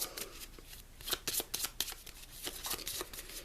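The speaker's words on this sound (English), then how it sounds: "Just give it a quick shuffle" Rapid riffling of a card deck, a burst of crisp papery flutters with short pauses between riffles, close and fairly quiet, no voices.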